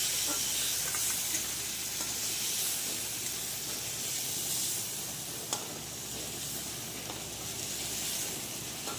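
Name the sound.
shrimp frying in oil in a wok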